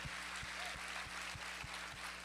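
A church congregation at a Christmas service applauds its volunteers with steady, evenly paced clapping that carries on at a moderate level from start to finish.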